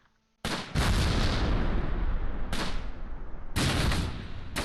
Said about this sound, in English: We'll put some rounds in this building.